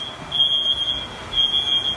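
A dormitory smoke detector shrills with a steady high-pitched tone in two long bursts separated by a short gap, loud and close in an otherwise quiet room.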